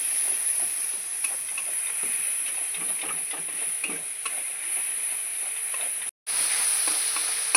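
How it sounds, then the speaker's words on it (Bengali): Ground cumin, ginger and green chili paste cooking with salt and a splash of water in a pan hisses and bubbles steadily, with faint scattered stirring taps, close up; a brief dropout near the end, no voices. "একটু জল দিয়ে দেবো, দিয়ে মশলাটাকে কষাবো"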